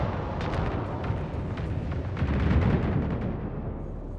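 Torpedo fire and explosions in the space strategy game Homeworld 3 during a skirmish, a continuous loud rumble of distant blasts and booms with a heavier swell of impacts midway.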